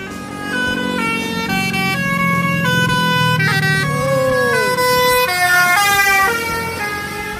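An NPM Tuan Muda intercity bus passes by sounding a loud, musical multi-tone horn in a rising and falling melodic sequence over the rumble of traffic, sustained for several seconds.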